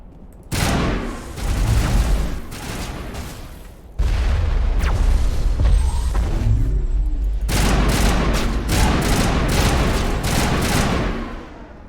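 Shotgun and assault rifle fire in Mass Effect Legendary Edition, loud sustained bursts that roll on in heavy volleys, break off briefly, then resume with thudding booms mixed in, with no talking over them.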